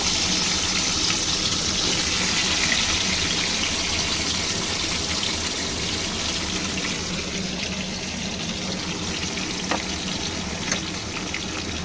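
Eggplant pieces sizzle in hot oil tempered with nigella seeds for a Bengali eggplant-and-hilsa dish, a loud, steady, close-up hiss that runs unbroken throughout with a few faint pops and crackles and no talking.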